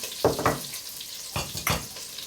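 Butter with pepper paste frying in a pan in a home kitchen, giving a close, crackling sizzle that swells in a few short bursts.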